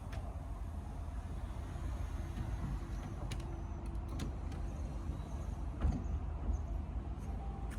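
The power top of a C8 Corvette convertible lowers, giving a quiet, steady motor whir with faint mechanical clicks and soft thumps along the way.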